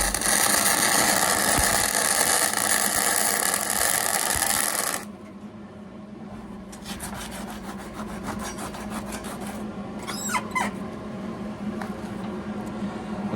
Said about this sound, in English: we're just going to do some little practice welds on straight onto the metal